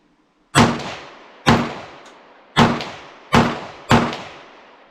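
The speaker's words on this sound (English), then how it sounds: "Well, all those rounds shot just fine." Five loose ammunition rounds, previously stored under harsh conditions, fire as separate sharp gunshots spaced about a second apart, each with a loud crack and a decaying outdoor echo, with no talking.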